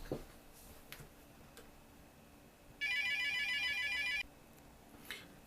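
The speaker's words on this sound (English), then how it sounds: "I get a phone call here." A telephone ringtone for an incoming call sounds once, a steady electronic trill lasting about a second and a half, clear and fairly loud over a quiet room.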